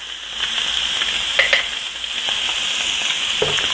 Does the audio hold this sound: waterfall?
no